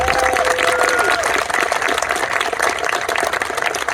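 A large outdoor festival crowd applauds loudly for a veterans' color guard at an opening ceremony. The clapping is dense and sustained, with crowd noise and a faint tone early on.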